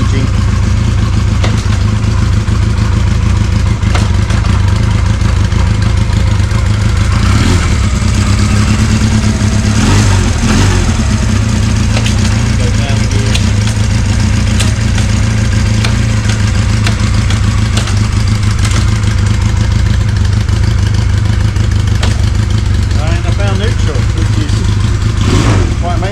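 A Honda Rebel motorcycle fitted with a Kliktronic clutchless gear shifter runs loudly and continuously, its engine drone rising and falling as it is ridden, with a voice talking over it.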